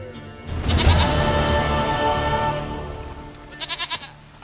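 A goat bleats in The Witcher 3, a harmonic, wavering cry rising and holding over a second or two before easing off, followed by a few short pulsed bleats near the end; no one talks.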